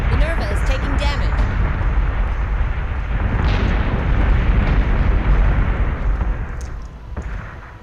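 Missiles striking a ship in the Battlestar Galactica Deadlock space combat game, a continuous heavy rumble of explosions and booming impacts, loud and dense, with game voice alerts over it.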